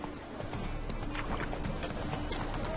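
Roach, the horse in The Witcher 3, gallops with a steady stream of hoof clip-clops under a dense wash of game sound and a faint voice.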